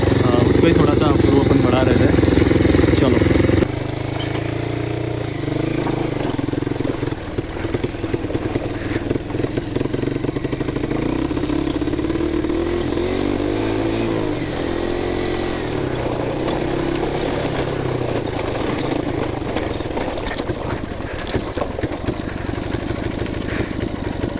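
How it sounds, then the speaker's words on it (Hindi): A carbureted motorcycle, hot after a fall on an off-road ride, revs with a rough, uneven engine note that sags and surges as it loses and regains power, loud and close throughout with clattering mechanical noise. "देखा आपने मेरा बाइक पावर नहीं पकड़ रहा अचानक से पावर पकड़ रहा है"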